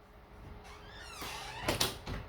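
A door creaks softly, then shuts with a light thud in a quiet room.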